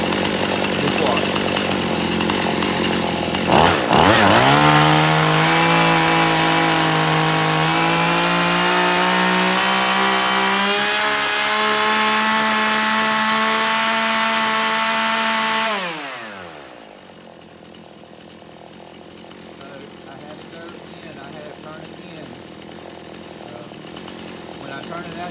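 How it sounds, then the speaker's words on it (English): Chainsaw engine running loud and close while its carburetor is adjusted, the pitch rising and dipping slightly as it bogs down, then cutting off and leaving a quiet background. "When I turn it out, you can hear it start to bog down just a little bit."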